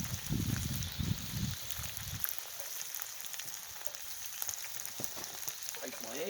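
Eggs fry in a cast iron pan over an open fire, a steady crackling sizzle with soft pops throughout, with a brief low rumble of handling at the start.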